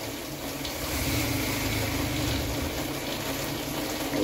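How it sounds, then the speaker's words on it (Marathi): Water poured into a pan of egg curry masala with turmeric and spice powder, a steady close rushing splash that holds evenly for several seconds with no talk. "आता ह्याच्यात पाणी टाकायचं"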